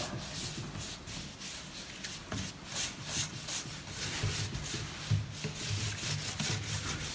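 Brass wire brush scrubbing chemical stripper off a carved timber bungalow door, close and fairly quiet, with repeated rhythmic rasping strokes back and forth across the wood grain.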